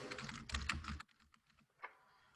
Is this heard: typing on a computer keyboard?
yes